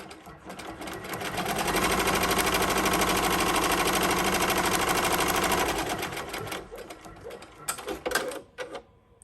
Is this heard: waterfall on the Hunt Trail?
no